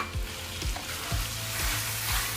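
Pork liver goes into a simmering pot of Ilocano-style pakbet, giving a steady close sizzle and bubbling with a few soft stirring knocks and no talking.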